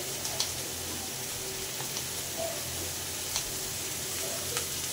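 Chili frying in a pan on a gas stove, a steady close sizzle and crackle with a few faint scraping stirs, no talk.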